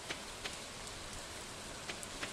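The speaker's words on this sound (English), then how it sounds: "It's hard to meet people in the rain." Steady rainfall in Stardew Valley, a soft, even hiss with occasional faint drop ticks, continuous and quiet, with no talking.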